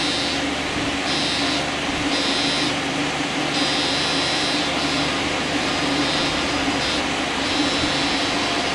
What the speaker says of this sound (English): This is the buzzing that I've heard on the E3D a few times